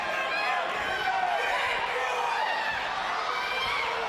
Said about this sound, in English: you probably hear the crowd in the background now